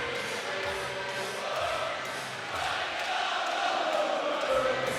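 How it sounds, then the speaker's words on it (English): Crowd noise fills a bare knuckle boxing event, a steady loud roar of many voices with shouts rising and swelling toward the end. "You can hear the crowd, Stiffy."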